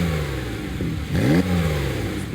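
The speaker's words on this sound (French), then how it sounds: "Le vrombissement des moteurs comme une mélodieuse symphonie aux oreilles de ces passionnés." Sports car engines, Ferrari, Maserati and Lamborghini, idle with a low rumble before one revs sharply in a brief rising roar, then settles back to a steady throaty drone nearby.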